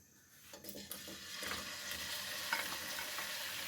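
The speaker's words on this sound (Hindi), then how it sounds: "और अब हम इसके अंदर डाल देंगे ये स्लाइस किए हुए अनियन जो है ये शामिल कर देंगे।" Sliced onions frying in hot oil in a kadai for a kidney bean and black-eyed pea curry, a steady close sizzle that swells in the first second as they hit the pan, with some stirring clatter.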